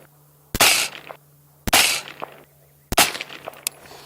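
Three loud, sharp gunshots from a VKTR VK-1 10.5-inch gas piston AR-15 upper firing PMC Bronze .223, each crack spaced about a second apart and trailing off in a brief echo.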